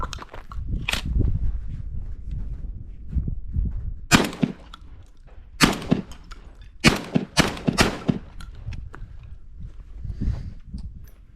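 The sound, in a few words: Citadel Bosshog 20-inch gas-driven shotgun firing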